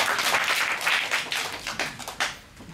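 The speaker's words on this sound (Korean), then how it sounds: "다시 한번 박수 부탁드립니다." Audience applauding a speaker at a Korean talk event, a dense patter of clapping that is loud at first then thins and fades toward the end, with scattered louder claps.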